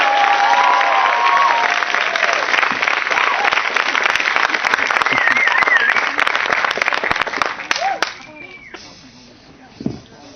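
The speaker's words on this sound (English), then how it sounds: "Give a warm round of applause for Belue." A comedy club audience gives loud sustained applause with cheers as a comedian is welcomed to the stage, fading near the end as a few voices come through.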